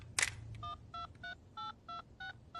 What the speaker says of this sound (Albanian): Po i bëj një telefonat vajzave për t'i lajmëruar